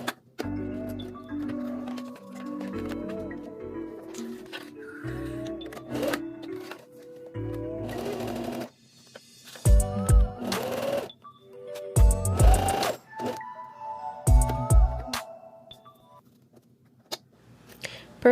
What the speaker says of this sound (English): here I'm using a buffer to balance my sewing machine foot as I attempt to sew over the zipper